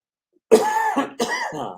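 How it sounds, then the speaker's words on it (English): Two loud, close coughs in quick succession after a moment of silence, harsh and throaty. "You start off with a nice big cough."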